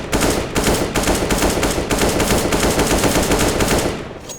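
Automatic rifle spray in the shooter game CS:GO, a loud, rapid continuous burst of gunfire lasting about four seconds before cutting off, with no voices over it.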